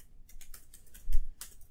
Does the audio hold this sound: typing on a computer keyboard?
yes